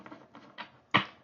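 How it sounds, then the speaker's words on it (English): A deck of tarot cards is shuffled in a few quick papery riffles, close and fairly quiet, ending with one sharper snap of cards. "Let me shuffle."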